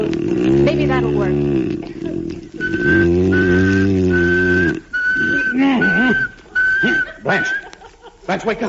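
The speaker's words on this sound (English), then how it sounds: "You're whistling. I know I'm whistling." A person whistles a steady monotone note in a series of short repeated bursts, starting after a stretch of speech and continuing under and between talking voices in an old-time radio drama scene.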